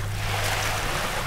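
Splashing water in Garry's Mod, a continuous washy rush that sounds like surf or churning water, steady and fairly loud with no voices.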